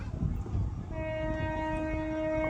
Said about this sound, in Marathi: आता बघा रेल्वे येते बरं का